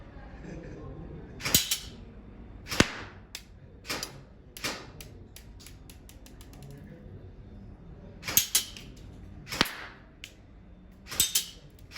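G&G RK74T airsoft rifle firing, a series of sharp close cracks in single shots and quick short bursts separated by pauses, with faint mechanical clicks between shots.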